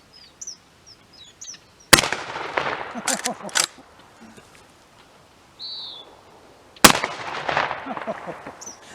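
Two loud, sharp blasts from a deluxe Winchester 1901 lever action shotgun fired outdoors, spaced about five seconds apart, each trailing off into echo, with faint birdsong between them.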